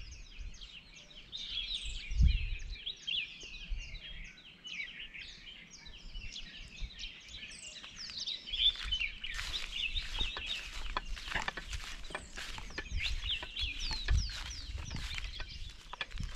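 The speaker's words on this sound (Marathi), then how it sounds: "आणि सकाळी पक्ष्यांचे आवाज बघा." Morning birdsong fills the countryside in Konkan, with dense overlapping chirps and twittering throughout and a rooster or hen clucking nearby early on, steady and moderately loud with no talking.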